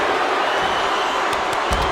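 A virtual arena crowd in the wrestling video game WWE 2K25 roars and cheers steadily throughout, loud and dense, with a few sharp thumps near the end.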